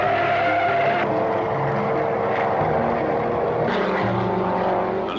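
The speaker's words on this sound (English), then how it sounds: "The leaders streak past the grandstand after the early laps, with Mercedes, Jaguars and Ferraris well to the fore." 1950s race cars, a Mercedes, Jaguars and Ferraris, roar past a grandstand, a loud continuous engine howl with rising and falling pitches as they pass close by.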